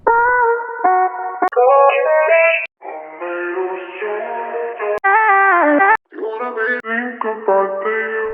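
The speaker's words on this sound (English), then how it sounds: "Let's do a vocal sample." A processed vocal sample for an Afrobeats beat plays alone, chopped into pitched, echoing phrases with abrupt cuts and short pauses between segments.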